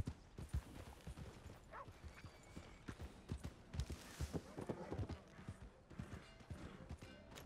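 Horse hooves clip-clopping in the Red Dead Redemption 2 video game, a steady rhythmic trot of close, distinct hoofbeats, with game sounds mixed in.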